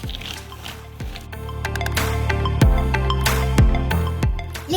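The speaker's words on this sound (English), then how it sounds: "I'm gonna stir." Peanuts being stirred through melted chocolate: soft, close squishing and sticky wet sounds with light clinks, moderately loud, continuing steadily over several seconds with no speech.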